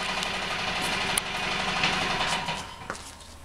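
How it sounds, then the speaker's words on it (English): An electric air compressor runs in a workshop during a vertical-axis wind generator build, a steady loud motor drone with a few faint clanks on top. "there's my compressor going on"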